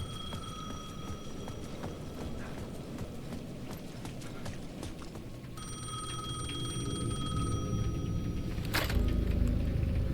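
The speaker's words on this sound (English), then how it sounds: "The payphone at the edge of the plaza was ringing again." A payphone bell rings steadily at the edge of a plaza amid a busy ambient soundscape in the video game Alan Wake 2, growing slightly louder and more cluttered toward the end.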